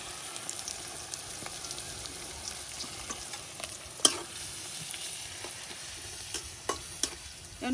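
Onion and garlic frying until reddened in a pan, a crackling sizzle with frequent scraping stir clicks and one sharper knock midway, close and fairly quiet, no speech.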